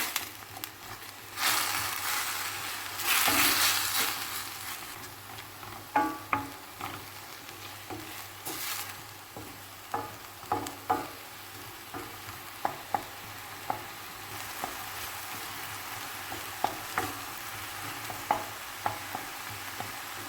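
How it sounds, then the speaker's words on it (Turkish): Ingredients for ovmaç soup are stir-fried in a pan, a soft sizzle running underneath intermittent clicks and scrapes of a utensil, with a couple of louder bursts of frying early on. "Birlikte kavuralım."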